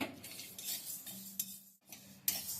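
Moong dal dry-roasting in a pan, heard as faint, close clinks and scrapes of a metal spoon stirring against the pan, with a brief pause in the middle.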